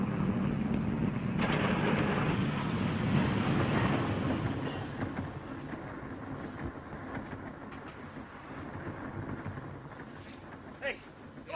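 A moving train rolls along with a steady, loud rumble and rattle for most of the stretch, easing slightly quieter later, with wind noise and faint metallic clatter.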